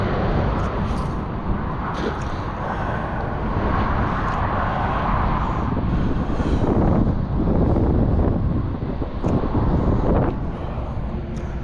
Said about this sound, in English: I know it's windy. It's gonna be hard to hear.